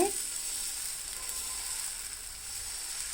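Maida and jaggery dosa batter sizzles steadily on a hot pan, a continuous close frying hiss with no speech.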